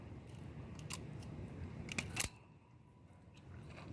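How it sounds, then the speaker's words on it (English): Wire strippers snip through old wiring on an HVAC air-conditioning unit, giving a few sharp close clicks, with a quick double cut near the end against a quiet background. "Got my little wire strippies. Just get rid of the old stuff."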